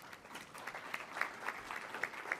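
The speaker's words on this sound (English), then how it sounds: "I hope you're able to hear the applause on the call." Applause from a conference call during an AIDS 2022 telehealth session comes through faint and thin, a scattered patter of clapping with a few sharper individual claps, steady for a couple of seconds.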